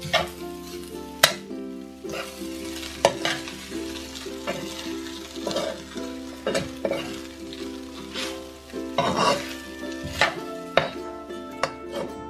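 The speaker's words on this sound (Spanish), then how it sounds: "Esto se tiene que revolver muy bien para que todos los ingredientes queden con el arroz y con los huevos." Korean-style fried rice with eggs being stirred in a hot pan, a steady sizzle of frying under repeated scraping and stirring strokes with occasional sharp clinks of the utensil against the pan, no talking.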